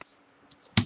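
Computer keyboard keys struck in a quiet room: a brief cluster of soft clicks and one sharp, louder keystroke at the end, close up, with no talking.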